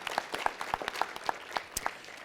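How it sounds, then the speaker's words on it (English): Scattered clapping from a small audience at a city council meeting, a few dozen hands giving an irregular, fairly close round of applause with no talk over it. "Please give her a nice round of applause"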